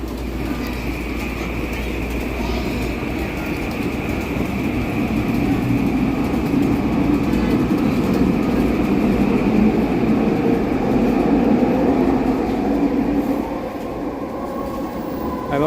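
Riding aboard a SkyTrain metro car, a steady loud rumble of wheels and motors fills the cabin throughout, swelling slightly mid-ride before easing, with no voices heard.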